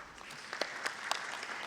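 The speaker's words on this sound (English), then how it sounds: "Let's give him another round of applause." Scattered clapping from an audience, fairly light and distant, with individual claps popping out over a soft wash of applause.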